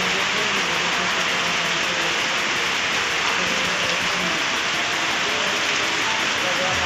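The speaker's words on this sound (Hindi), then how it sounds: "ये देखिए बारिश कितनी तेज पड़ रही है" Heavy rain pours steadily onto a flooded street in Haridwar, a dense continuous hiss that stays loud and even throughout with no break.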